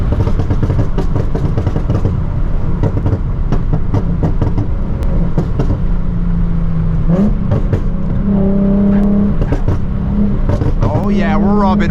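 Nissan 370Z Nismo engine revving loudly with steady droning tones and sharp exhaust pops and crackles, close up throughout, with people talking over it.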